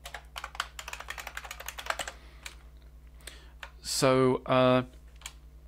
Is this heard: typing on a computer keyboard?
yes